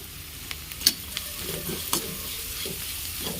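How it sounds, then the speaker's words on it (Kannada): Capsicum frying and being stirred in a hot oil tempering for lemon chitranna: a steady low sizzle with scattered scraping and clinking strokes of a spoon in the pan, close and moderately quiet, with no voices. "ಕ್ಯಾಪ್ಸಿಕಮ್ ಏನು ತುಂಬ ಟೈಮ್ ತೊಗೊಳ್ಳೋದಿಲ್ಲ ಒಂದು ನಿಮಿಷ ಎರಡು ನಿಮಿಷ ಹೀಗೆ ಫ್ರೈ ಮಾಡಿಕೊಂಡು ಸಾಕು"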